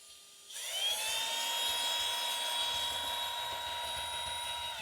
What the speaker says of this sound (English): you can use a mixer inside of this silicone mat as well.